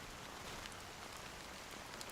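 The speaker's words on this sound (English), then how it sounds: "how long has this rain been going on for?" Steady rain pouring down in a video game, a dense even hiss of falling drops that continues without a break, with no voices.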